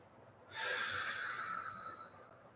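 A single slow, breathy exhale through the nose during a guided breathing meditation, starting suddenly and tapering off softly, close and quiet.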